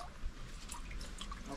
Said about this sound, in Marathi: गोमुखातून अजून पण पाणी येते